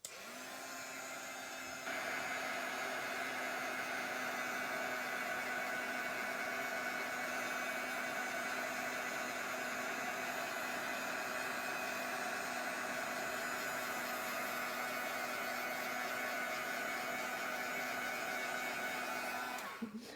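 A heat dryer blows steadily on white paint on a mixed media craft tag. It gives a constant loud whirring hiss that goes on alone for about twenty seconds and cuts off at the end.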